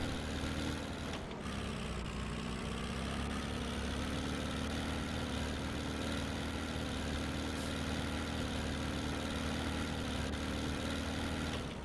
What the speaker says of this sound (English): This engine may just not be warmed up yet.